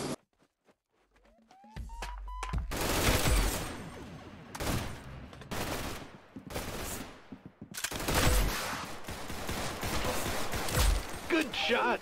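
Gunfire in a Roblox first-person shooter game, loud close bursts of rapid automatic shots in several separated volleys with brief quiet gaps between them, a voice talking over parts of it.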